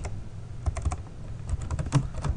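Rapid, uneven keystrokes on a computer keyboard while code is typed, close and clear, with short bursts of clicks and brief pauses and no talking.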